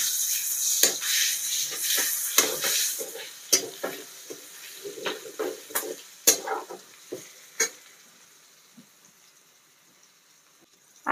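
Crushed garlic and green chillies fry in oil, with soft sizzling and repeated scraping stirs of a spoon in the pan, close and intermittent, fading toward quiet at the end.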